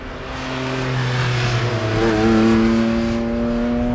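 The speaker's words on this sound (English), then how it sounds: "You can get over 100 decibels of sound, noise out of this engine while in the cabin." A Porsche Cayman GT4 RS engine revving, heard from inside the cabin: a loud, sustained engine note that rises and holds with a steady, smooth tone.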